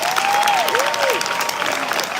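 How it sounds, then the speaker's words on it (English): Applause from a graduation ceremony audience for scholarship recipients, a dense, steady wash of many hands clapping throughout, with a faint tonal sweep heard over it. "Everyone, please give a round of applause for all of our scholarship recipients."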